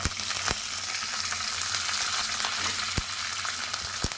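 Curry leaves fry in oil with chana dal and urad dal, producing a steady bright sizzle with a few sharp spatters and pops close by. No voices are heard.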